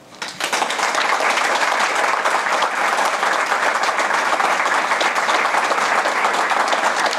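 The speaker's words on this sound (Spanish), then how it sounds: "Vamos a aplaudirlas." A live audience claps steadily together at a tribute event for Cuban exile women, the applause swelling within half a second and holding loud and dense for the rest of the stretch without talk.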